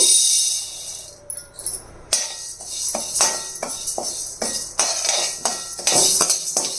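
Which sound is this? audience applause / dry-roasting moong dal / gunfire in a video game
dry-roasting moong dal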